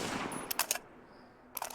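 Gunfire from an FN F2000 bullpen rifle in a modded Fallout 4 game: three or four sharp close shots in a quick burst, then a lull with a faint high tone, and another rapid burst at the end.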